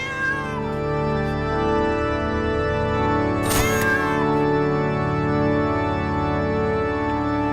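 A cat meows and caterwauls in long, drawn-out, wavering cries that fill the whole stretch. A loud mechanical click like a camera shutter cuts in briefly midway.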